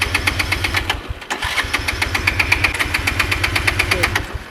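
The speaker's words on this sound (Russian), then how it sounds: "И теперь он у меня не заводится все-таки." A Bajaj Avenger motorcycle engine turns over and sputters repeatedly in a steady rapid rhythm without catching, loud and close, with a brief pause partway through.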